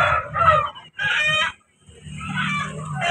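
Roosters crow and cluck at a poultry market in Vijayawada, a few loud, close calls in short bursts separated by a brief pause, with no talking.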